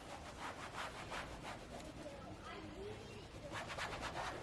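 A microfiber cloth rubbed over a surface while applying Meguiar's Ultimate Black trim restorer, giving a run of soft, rhythmic swishing strokes close by, with a pause in the middle.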